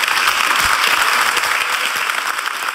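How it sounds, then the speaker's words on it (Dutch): Warm applause from a debate audience for an entrepreneurs' panel, dense continuous clapping throughout the short stretch. "Allereerst, geef ze een warm applaus."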